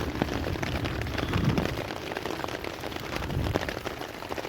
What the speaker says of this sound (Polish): Na razie deszcz zelżał.